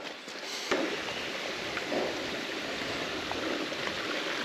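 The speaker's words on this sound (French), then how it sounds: "cette forêt avec ce petit ruisseau là à côté" Small forest stream on a hiking loop in Ariège, a steady soft wash of flowing water, faint and even, with a few light thumps like footsteps.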